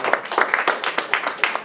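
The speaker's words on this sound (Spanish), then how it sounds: "Denle un aplauso al Señor." A church congregation applauds with steady, fairly loud clapping from many hands, kept up throughout the short stretch.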